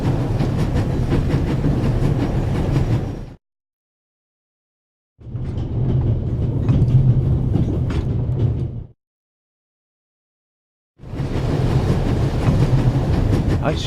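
A moving train rumbles and clatters on its rails in a video game, three steady stretches of noise each broken by a few seconds of dead silence.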